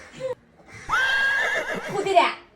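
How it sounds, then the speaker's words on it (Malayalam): A horse gives one loud, rising and falling whinny that lasts about a second and a half, after a brief lower sound just before it. "കുതിര."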